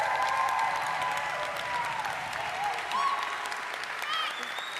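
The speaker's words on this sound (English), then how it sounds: "can we give a round of applause for all these 5 organizations?" An audience at a prize ceremony gives a sustained round of applause, dense steady clapping from a crowd filling the room, with some faint voices and cheers mixed in.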